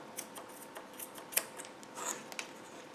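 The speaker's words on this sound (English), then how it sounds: "So now you take your embroidery scissors and you just cut the top portion." Embroidery scissors snip through the yarn of a crochet tassel for an amigurumi panda, a string of faint, quick metallic clicks and cuts at irregular intervals, close up and quiet with no talking.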